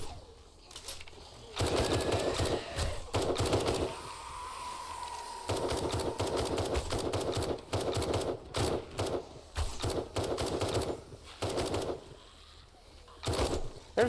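Bursts of video game gunfire in 7 Days To Die aimed at a jumping spider zombie, rapid repeated volleys coming in clusters with short gaps between them, loud and up close, with no talk over the shooting.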